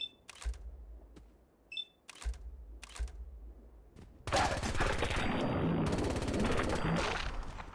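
Gunfire from a weapon in Fallout 4, a few sharp separate shots with small clicks at first, then a dense, loud sustained burst of rapid fire filling the second half.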